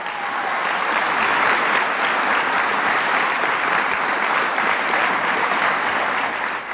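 Sustained applause from a large audience greeting cabinet secretaries at a presidential bill signing for health care and education reform at a Northern Virginia community college, a dense steady roar of clapping throughout, loud and close with no voices on top.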